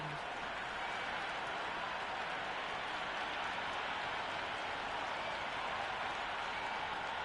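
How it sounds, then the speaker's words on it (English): A dense, steady roar of a packed stadium crowd at a cricket match in a video game, broad and continuous with faint scattered clapping, loud and unbroken throughout. "this crowd is already making it hard for me to be heard"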